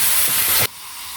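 Cumin paste hits a hot pan of curry, and a loud, bright sizzling hiss cuts off abruptly partway through, leaving a quieter simmering hiss.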